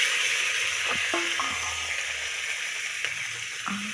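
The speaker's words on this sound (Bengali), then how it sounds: "এবার ভেজে নিচ্ছি কেটে রাখা আলু" Cut potatoes, seasoned with salt and turmeric, frying in a pan, giving a steady bright hissing sizzle with a few faint utensil taps, close and without talk.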